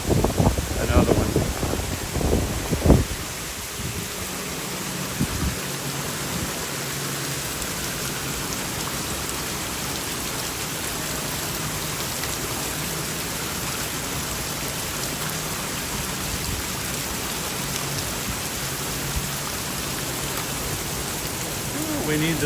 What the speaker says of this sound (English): All rainwater, Wildstar, all rainwater coming from up off the roof